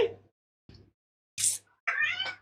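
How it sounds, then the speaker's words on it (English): A house cat meows a few times, short close calls separated by brief silences, the last one longer and rising. "Speaking of cats."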